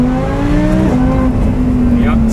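Supercharged 800hp MTM-tuned Audi R8 accelerates at full throttle, a loud, close engine note climbing in pitch, briefly dropping at a gear change and rising again.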